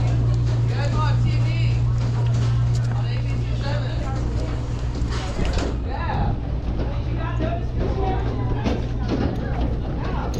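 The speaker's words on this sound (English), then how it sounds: "Enjoy your boat ride there, Cash." A motorboat's engine hums steadily at a marina in Marina Del Rey, loud and close throughout, while people talk over it and a large dog boards.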